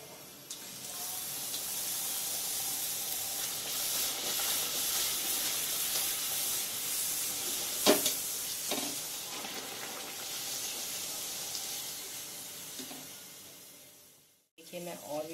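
Puris frying in hot oil in a home kitchen, a steady dense sizzle running throughout with a few brief clatters and a short pause near the end.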